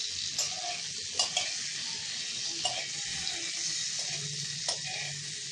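Pumpkin leaves cooked with split pea dal fry in a pan, a soft continuous sizzle broken by occasional light knocks and scrapes as a spatula turns them.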